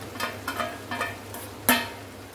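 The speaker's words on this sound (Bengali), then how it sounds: "এবার পনিরটা দিয়ে আমি বেশ ভালো করে একটু নাড়াচাড়া করে দিচ্ছি।" Paneer and capsicum are stirred in a frying pan: several quick scraping strokes over a soft sizzle, then one sharper clank of the utensil against the pan, close by.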